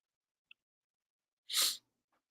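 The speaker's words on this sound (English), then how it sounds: "I just got hit with a sneezing frenzy of 3 sneezes in just a couple of moments." A single sharp sneeze bursts out nearby in an otherwise quiet room, preceded by a tiny click.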